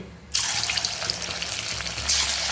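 Bhaji batter dropped into very hot oil for a fasting-day meal bursts into a loud, steady sizzle and crackle that starts suddenly and keeps bubbling close up, with no talk.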